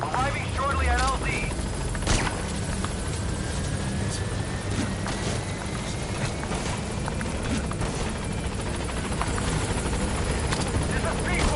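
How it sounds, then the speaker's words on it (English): A helicopter's steady rotor drone fills the scene, loud and continuous, with scattered bursts of game gunfire and effects layered over it, as the helicopter arrives at a landing zone in Metal Gear Solid V. "Time for helicopter."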